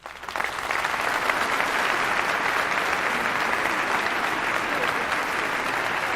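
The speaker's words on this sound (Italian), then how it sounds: "Un applauso per Maria Speranza" Concert audience breaking into applause, a dense crowd of clapping that swells quickly after a brief start and holds steady and loud to the end.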